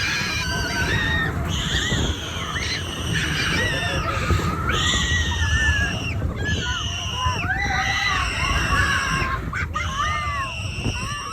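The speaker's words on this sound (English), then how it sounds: "hearing this little girl scream at the top of her lungs" A little girl screams at the top of her lungs amid a loud crowd at a food handout in Negril, the shrill cries repeating over dense, constant background commotion.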